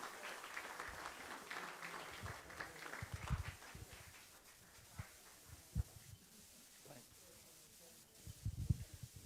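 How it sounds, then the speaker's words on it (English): Applause from a room of Rotary Club members at a weekly meeting in Las Vegas, a soft, steady patter of clapping with a few louder bumps, heard at a low level throughout. "let's give a big round of applause for all of our"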